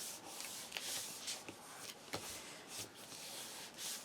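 Paper on an embroidered greeting card is smoothed down by hand, giving soft, close rubbing and brushing strokes in repeated sweeps with faint scratchy accents.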